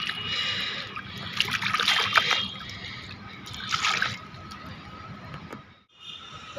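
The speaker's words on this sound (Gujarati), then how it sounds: "તો હવે આ પપૈયાને આપણે ધોવું પડશે" Tap water runs and splashes over a freshly picked papaya as it is rinsed, rising in two louder bursts of spattering and trickling, then briefly cutting out before flowing again.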